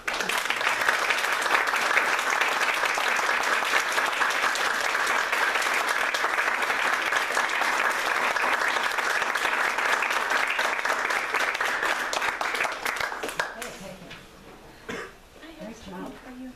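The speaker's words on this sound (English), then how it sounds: "Now we're going to give one big applause, and then I'll get everything ready." Audience applause after a senior piano recital by music students, sustained and dense for about thirteen seconds, then fading out into scattered claps and a few coughs in the hall.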